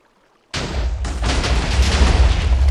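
A sudden loud explosion in Minecraft's Hexxit modpack bursts after a moment of near silence, followed by a second blast and a sustained, rumbling roar of debris that stays heavy to the end.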